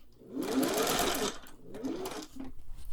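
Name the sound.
Singer 401A sewing machine stitching a zigzag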